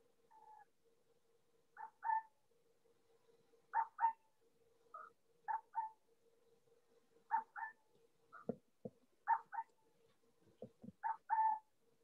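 Short paired hoots of a burrowing owl repeat at steady intervals, clear and fairly near against a quiet background, with a few low thumps partway through.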